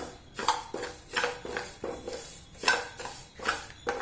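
Half a cup of lentils dry-roasting in a clay pot without ghee, a utensil scraping and stirring in steady repeated strokes, close and fairly quiet, with no voices.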